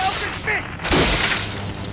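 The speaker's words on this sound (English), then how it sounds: "It's really too bad that Eustache smashes the radio before the song starts." A radio smashed in an animated cartoon: a sudden loud crash breaks in about midway and trails off, after a brief stretch of cartoon voices and sound effects.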